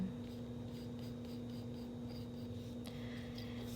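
Light pencil sketching on paper, soft rhythmic scratching strokes heard close and quiet over a faint steady background hum.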